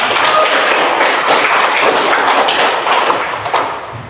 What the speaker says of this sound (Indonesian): mari kita semua tepuk tangan